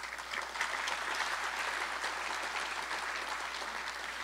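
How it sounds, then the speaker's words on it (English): A room of attendees at a farm bill summit applauds the crew who cooked the evening meal, a steady, moderate patter of many hands clapping with no one speaking, holding even throughout before easing slightly. "Let's give them a round of applause."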